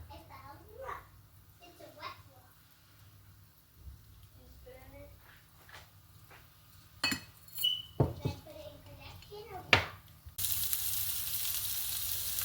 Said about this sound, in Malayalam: വലിയ ടേബിൾ സ്പൂൺ കടുകും ആഡ് ചെയ്ത് കൊടുക്കുകയാണ്